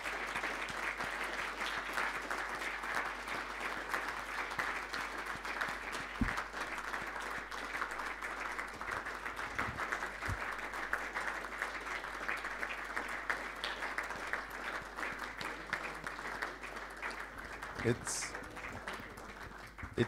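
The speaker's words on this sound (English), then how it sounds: "Maybe you can join us here so that we can give them a round of applause." Sustained applause from a closing-ceremony audience at an international longevity risk and capital markets conference, honouring student volunteers; dense, steady clapping fills the hall for about twenty seconds with a few louder claps near the end.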